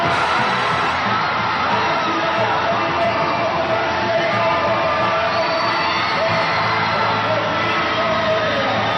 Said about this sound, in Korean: 자, 박수가 나오네요